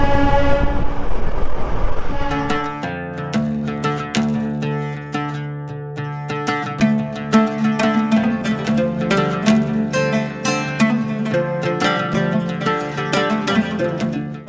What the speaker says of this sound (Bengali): আর সোনাডাতে এসে প্রথম দেখা মিললো টয় ট্রেনের।